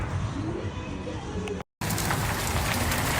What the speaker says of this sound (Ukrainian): Пішов дощ в Дніпрі.